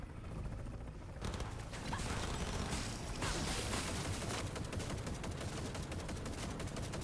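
Gunfire in Cyberpunk 2077 Phantom Liberty, with sustained heavy bursts of automatic fire that start abruptly after about a second and continue loud and dense to the end.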